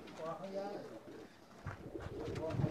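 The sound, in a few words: Lal Pari breed pigeon cooing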